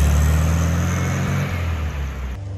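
A VW Beetle fitted with converted disc brakes and drop spindles drives off, its engine a loud, close, steady rumble that eases slightly as it pulls away.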